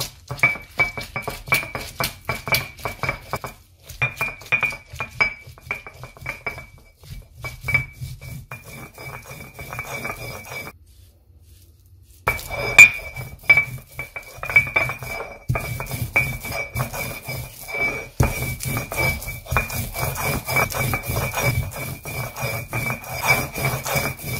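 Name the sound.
grinding soaked dried red chillies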